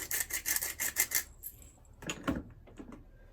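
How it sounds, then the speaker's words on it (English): Salt is shaken in a quick run of about seven rhythmic rattling bursts, then fresh pepper is cracked from a grinder in a few short gritty twists, close and fairly quiet in a home kitchen. "So I'm just going to shake some in and crack some fresh pepper in there."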